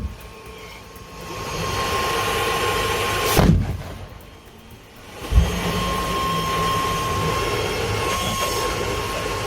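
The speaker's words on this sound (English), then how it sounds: "Hear that V1 buzz bomb scream?" A loud, harsh pulse jet engine roar runs steadily, a V1 buzz bomb-style scream, dipping briefly and surging back with a sharp burst, buzzing up close.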